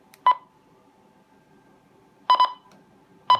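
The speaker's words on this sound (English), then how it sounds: "It'll start to beep and then automatically TX as well then, and it'll say emergency." An Icom handheld radio sounds emergency beeps, one sharp beep, then a quick double beep about two seconds later and another single beep at the end, close and loud over a quiet background.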